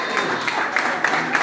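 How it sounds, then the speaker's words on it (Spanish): An audience at a neighbourhood championship fiesta in El Amanecer breaks into applause, a dense burst of clapping from a crowd, with voices mixed in beneath it. "¡Aplauso para ellos!"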